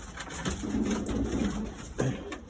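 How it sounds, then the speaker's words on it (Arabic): Pigeons coo close by in a loft, giving a couple of low throaty rolling calls over a faint background hiss. "وهذا الحمام اللي يبقى عندنا بالنسبه للتور"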